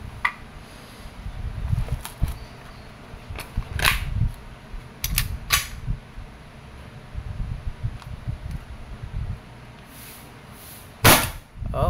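An Umarex SA10 airgun fires BBs during testing. Sharp, spaced cracks stand out over a rustling, handling background, with a louder shot near the end.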